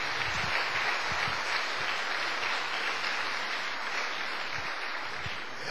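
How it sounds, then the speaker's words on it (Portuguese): A church congregation claps together in sustained applause, a dense even wash of hands filling the room, close and steady throughout with no voices heard. "Dá uma salva de palmas para o Senhor"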